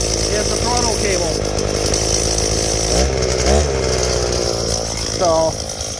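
Small engine of a Bolens HT-23 garden tractor idling steadily after a carburetor cleaning, a continuous buzzing drone throughout with a few brief bumps in level, while a voice talks over it.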